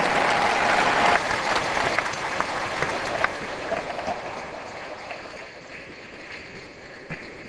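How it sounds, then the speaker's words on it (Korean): Crowd applause at a large Korean church prayer gathering, welcoming a pastor to the stage, loud and sustained at first and then gradually fading over several seconds, with no talk over it. "귀한 말씀을 주실 송태근 목사님께 박수를 한번 환영하면서"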